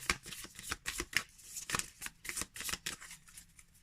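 Rapid riffle shuffling of oracle deck cards, a quick run of crisp fluttering bursts repeating steadily and close up, with no talking.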